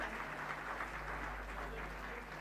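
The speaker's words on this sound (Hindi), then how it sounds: "तालियों की गड़गड़ाहट होती रहनी चाहिए।" Applause from an audience at a government scholarship award ceremony, faint and steady clapping at a distance over a constant low electrical hum.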